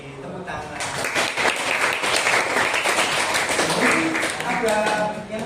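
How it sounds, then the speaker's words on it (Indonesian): High school classroom students clapping together in a dense burst of applause that fills the room, loud and close, with some talk mixed in. "oke, tepuk tangan."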